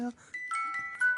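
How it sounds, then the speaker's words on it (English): A small bell dings on a talk show, a few bright ringing tones over about a second, close and clear, with voices around it. "Nick, ding that bell."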